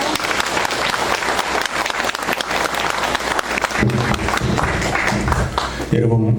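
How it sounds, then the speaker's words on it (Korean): Dense, loud audience applause in a lecture hall welcomes a Jesuit priest to the podium for a talk on faith and science, continuing for several seconds while a voice begins speaking over the clapping. "그럼 큰 박수로 바오로 신부님을 모시겠습니다."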